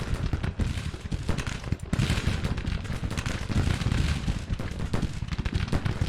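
Counter-battery artillery fire in Grand Tactician: The Civil War: a dense, continuous rumble of overlapping booms and crackling shots, steady and loud throughout, with no voices.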